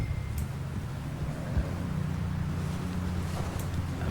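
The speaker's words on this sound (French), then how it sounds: "ça tabasse hein, quand même dans la tempête de neige là" Snowstorm wind in Red Dead Redemption 2 roars as a dense, steady low rumble with gusty texture throughout, loud and continuous with no talk over it.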